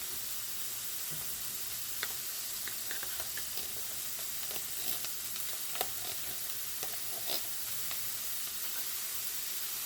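Canned chickpeas frying and being stirred in a pan, a quiet steady sizzle broken by scattered pops and crackles and occasional utensil scrapes, with no one talking.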